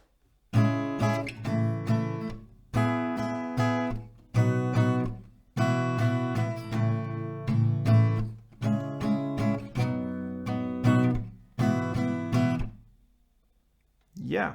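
An acoustic guitar strums a song's chorus at a slow tempo in separate strummed phrases with short gaps between them, close and steady, with no talking.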